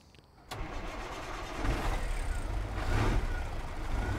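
A Dodge Bighorn CNT950 logging truck in American Truck Simulator cranks and fires up after a brief quiet moment, settling into a loud, steady diesel rumble that swells slightly as it idles.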